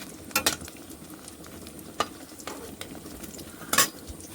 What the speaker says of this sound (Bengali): এরকম করে অল্প অল্প করে সব ভেজে নেব সবগুলো।